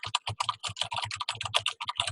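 Someone types steadily on a computer keyboard, a rapid, uneven patter of close, crisp key clicks with no talking.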